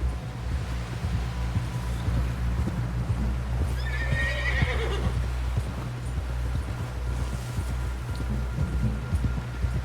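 A horse in Red Dead Redemption 2 whinnies once in a high, wavering call amid a steady run of hoofbeats, with a low rumbling hum underneath throughout.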